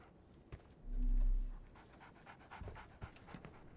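A beagle in the Sherlock Holmes: The Awakened video game pants in quick, soft breaths over a low background, with one louder swelling huff partway through.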